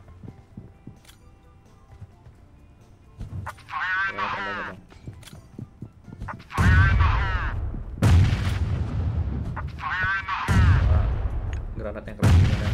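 Grenades go off in PUBG Mobile as several heavy, deep booms, each followed by a long rumbling tail, arriving loud and close in the second half after quieter gunfire pops, with excited voices talking between blasts.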